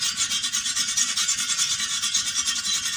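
A brush scrubs a motorcycle part clean in quick, rhythmic back-and-forth strokes, a steady raspy rubbing that stays close and continuous without any voices.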